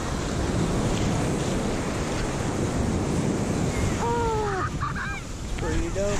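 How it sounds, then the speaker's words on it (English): Ocean waves breaking on a beach, a loud continuous wash of surf with wind buffeting the microphone and a few honking bird calls near the end. "We're in the waves."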